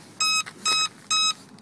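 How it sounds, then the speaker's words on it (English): A radio transmitter for a Parkzone Icon A5 RC plane gives three short, high electronic bind beeps, evenly spaced and clear against a faint background. "there's the beep to let us know that we're up and running."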